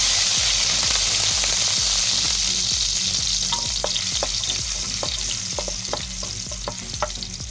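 Garlic sizzling loudly in hot cooking oil in a pan for a Filipino fish dish, a steady dense crackle with scattered sharper pops and faint scrapes of a utensil, no talking.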